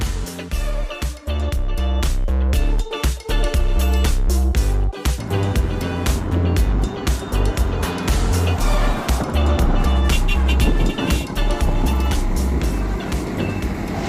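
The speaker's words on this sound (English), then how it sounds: "head out on the road and feel the power of this JAC NV75 electric truck" A JAC NV75 electric truck driving on a road in Kenya, heard as a loud, continuous rumble of road and wind noise with rattling and clattering throughout, and no engine roar.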